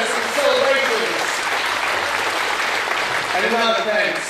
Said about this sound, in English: Have another round of applause for the photos and celebrations.